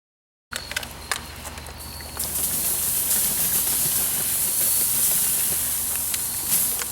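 Oil hitting a very hot hardwood-fired grill grate, opening with scattered crackles and then bursting into a loud, steady, hissing sizzle that holds to the end.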